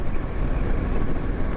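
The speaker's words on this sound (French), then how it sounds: "Oh, ce petit son de moteur là, qu'est-ce qu'il est chouette." A QJ Motor SRV550 motorcycle engine runs steadily, a dense low rumble with some wind buffeting, close and loud with no talk over it.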